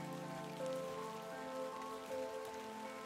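Rain falling in the game The Excavation of Hob's Barrow, a quiet, continuous patter on surfaces beneath a soft sustained musical tone, steady throughout without any voices.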